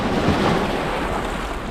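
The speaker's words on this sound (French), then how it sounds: "On a vraiment les vagues qui viennent jusqu'à nos pieds." Sea waves washing over small rocks at the shore near Heraklion, a close, continuous rushing surge with rumbling low wash and no voices.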